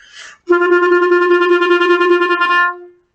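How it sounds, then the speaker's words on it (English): A clarinet holds one steady note about two seconds, articulated by rapid, even double tonguing into a fast stream of repeated pulses, after a short breathy lead-in. "it's a kind of a taka taka taka sound, or dugga dugga dugga on the clarinet"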